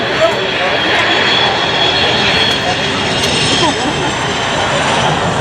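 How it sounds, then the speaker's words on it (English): C-17 Globemaster III jet transport on final approach at an airshow, a loud continuous engine roar and whine filling the air without a break. "The C-17 Globemaster III is on final approach for its landing."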